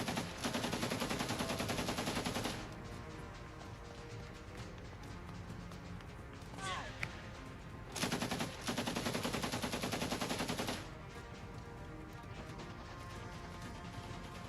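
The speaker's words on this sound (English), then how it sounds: "Gunfire passes dangerously close, and explosions are felt just meters away." Frontline gunfire and explosions in the Ukraine war during a mortar barrage on advancing troops: dense bursts of rapid automatic fire in long loud stretches, broken by quieter gaps with sharp cracks and impacts nearby.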